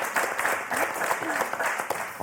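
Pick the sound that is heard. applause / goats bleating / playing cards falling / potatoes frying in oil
applause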